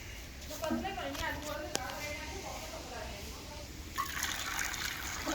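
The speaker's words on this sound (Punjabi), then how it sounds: "ਹਾਂ ਇੰਨਾ ਕੁ ਪਾਣੀ ਪਾਇਆ ਕਰ" Water trickles and splashes as it is poured into food for cats, a soft continuous liquid sound with a brief gush near the end, under a person talking throughout.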